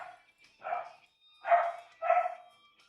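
A dog barks indoors in three or four separate bursts, moderately close and alone.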